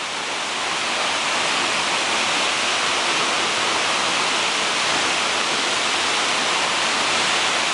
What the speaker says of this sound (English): Eagle Falls, yeah boy.